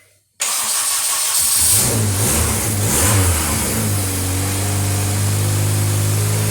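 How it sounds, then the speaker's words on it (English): A turbocharged Acura RSX with a built K24 engine cranks and catches on first startup, revving in a few surges before settling into a steady, loud idle close by. "Okay, here I got the throttle. Just crank it. First startup."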